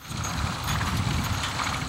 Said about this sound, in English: 4 horse-drawn mowers lined up in the same field